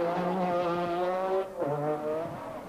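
A Group B Metro rally car, driven by Tony Pond with Rob Arthur, races through a stage of the 1986 Manx Rally. Its engine snarls loud and close, dips briefly mid-run, then climbs again.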